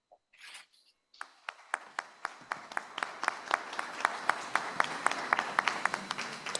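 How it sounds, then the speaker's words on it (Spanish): Audience applause at an international research assembly, starting with a few scattered claps and building into a steady, rhythmic clapping from a modest crowd in a hall. "Espero que haya escuchado los aplausos"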